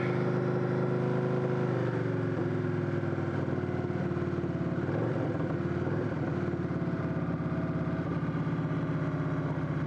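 A Victory V92C motorcycle engine idles on choke, producing a steady, throbbing mid-pitched rumble whose note shifts a little after a couple of seconds before settling into an even, unbroken idle.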